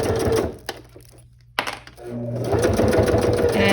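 A sewing machine stitches vinyl layered with tissue paper: a close rapid mechanical whir that stops briefly, a sharp click, then the motor picks up again and runs steadily to the end, with no talk.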